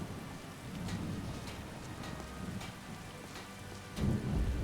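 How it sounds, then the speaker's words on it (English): Rain and thunder in Skyrim, a steady hiss of rainfall with low rumbling thunder underneath that swells noticeably near the end, fairly soft and with no one speaking. "It's raining."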